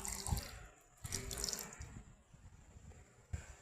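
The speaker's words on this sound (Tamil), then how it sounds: "இதில் திட்டமாக தண்ணி ஊற்றிங்க ஃப்ரெண்ட்ஸ் கொஞ்சமாக" Water splashing and trickling into a mixer jar while making cassava fufu, a steady close pour with a few louder splashes and no talk.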